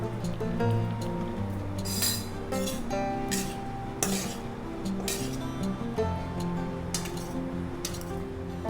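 Sautéed vegetables being stirred into cooked rice in a pan, with repeated clinking and scraping of a metal spoon against the vessel in an irregular rhythm, close and fairly loud.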